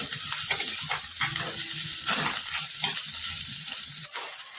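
Cabbage and mixed vegetables stir-frying on a high flame for veg noodles, a steady close sizzle with repeated scraping stirs and tosses in the pan, no talking.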